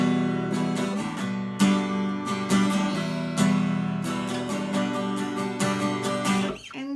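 Two chords alternating back and forth on an instrument for worship songwriting, each struck sharply and sustained with regular strums, close and steady without speech, ending in a short scraping noise.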